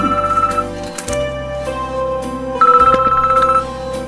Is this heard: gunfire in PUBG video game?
no